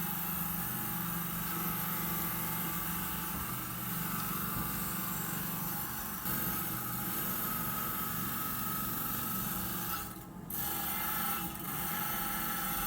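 A cutting tool trimming small amounts of stone away from around a giant ammonite, a steady loud abrasive grinding drone throughout, briefly dipping near the end.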